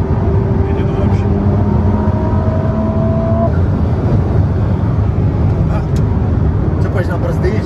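A Ferrari SF90 Assetto Fiorano hybrid supercar drives with a loud, close engine tone that holds steady pitches early on, then becomes a rougher, broadband roar as people talk inside.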